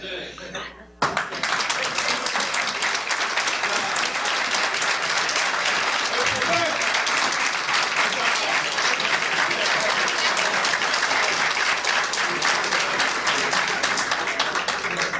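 Sustained, dense applause from an audience at a government signing ceremony for the sale of assets seized from drug traffickers, starting abruptly after a brief moment and continuing loudly and steadily to the end.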